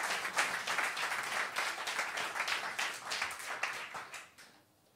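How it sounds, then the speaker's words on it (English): Audience applause at a church service in Riga, steady, dense clapping from a sizeable crowd that holds for about four seconds and then fades out near the end. "Give him a round of applause."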